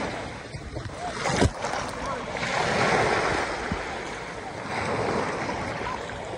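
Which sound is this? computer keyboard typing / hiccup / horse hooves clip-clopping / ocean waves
ocean waves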